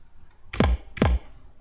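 Two sharp, clicky key presses on a Korg nanoKEY2 MIDI controller keyboard, evenly spaced and close up, each with a short thump, against a quiet background.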